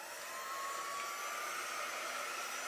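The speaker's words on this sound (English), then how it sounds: "Grab my little dryer here." Small handheld dryer blowing on an art journal page, a continuous airy whir with a faint rising whine, steady and close throughout with no voices.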